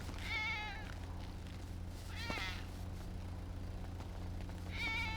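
A cat in a video game meows three times, clear and close, with drawn-out whiny cries spaced over a few seconds above a steady low game hum.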